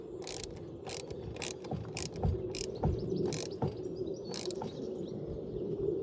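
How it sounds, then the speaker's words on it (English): A car battery terminal bolt is tightened with a ratchet in a series of quick clicking strokes, several crisp close ticks spread across the clip over faint background ambience. "Now we're just going to tighten up that bolt, make sure it's properly tight."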